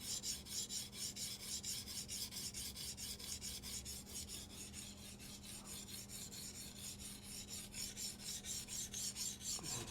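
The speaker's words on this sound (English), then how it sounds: "This is also a coarse diamond stone, but it is going to flip that burr to the other side and further refine our edge." A knife is rubbed on a coarse diamond sharpening stone in quick, regular back-and-forth rasping strokes, close and steady throughout.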